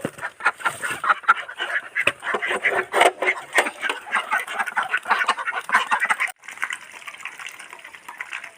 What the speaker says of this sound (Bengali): প্রতিদিনের মতো হাঁসটি ছাইড়া দেই